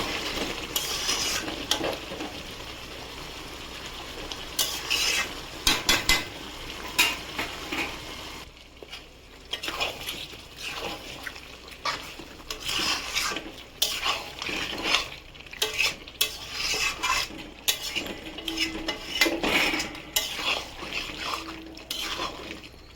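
Marinated mutton is stir-fried over a high gas flame in a pan. The spoon scrapes and clatters against the metal over and over, with a faint sizzle underneath.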